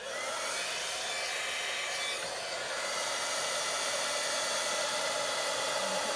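A heat tool for embossing blows a steady, loud, breathy roar like a hair dryer, running continuously and close for the whole stretch with no voices.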